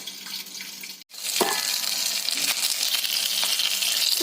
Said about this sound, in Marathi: सर्व बाजू फिरवून फिरवून भाजायचा, म्हणजे भाजणी छान होते.